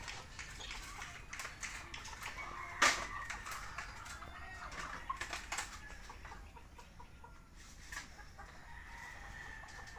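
Faint clucking from chickens comes in scattered bursts over a quiet outdoor background, with a sharp click or knock partway through.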